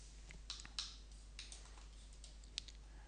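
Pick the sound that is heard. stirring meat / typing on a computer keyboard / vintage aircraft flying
typing on a computer keyboard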